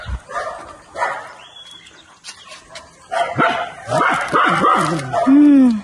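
A dog barks and yips in short, sharp bursts, close by and loud, with whimpering mixed in and a voice briefly in the background.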